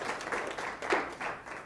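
An audience applauds at a school strengths-finder session, a short burst of clapping that swells and fades with no voices.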